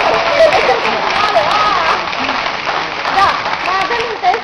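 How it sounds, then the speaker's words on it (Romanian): A Romanian television studio audience claps, a dense, steady patter of many hands that carries on throughout at full volume. "merit-o! Aplauze"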